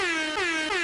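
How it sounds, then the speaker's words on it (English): Three quick, loud blasts of an air horn in rapid succession, brassy and blaring. "Where's the air horn, baby?"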